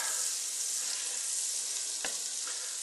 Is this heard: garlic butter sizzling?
yes